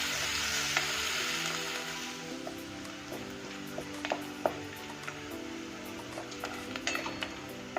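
Finely chopped onion fries in a pan of crackling cumin and mustard seeds while cooking ragda pattice. A steady, close sizzle carries on without talk, broken by scattered sharp pops and spits.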